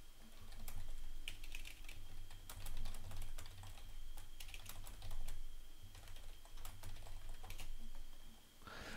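Rapid, steady typing on an American-layout computer keyboard, with dense clicking keystrokes running the full length over a constant low hum of game or room noise.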